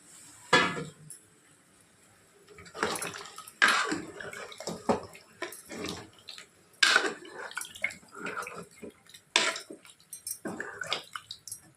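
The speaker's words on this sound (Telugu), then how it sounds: "కొంచెం ముక్క మునిగే వరకు వాటర్ పోసేసుకొని" Water is poured in several separate splashy bursts into a metal pressure cooker holding chicken curry, with clinks of the vessel between pours.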